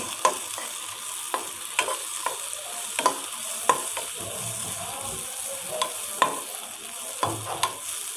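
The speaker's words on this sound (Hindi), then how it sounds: "थोड़ा सा हमने इसको फ्राई करना था" Cashews and raisins frying in a pan for sheer khurma give a steady sizzle throughout, broken by about a dozen sharp clicks of a spoon stirring against the pan, with no talk.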